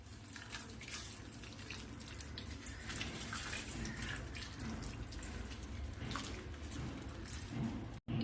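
Boiling water is poured from a kettle over cauliflower florets in a bowl, making a steady, close gushing splash that runs for several seconds without pause and ends with an abrupt cutoff.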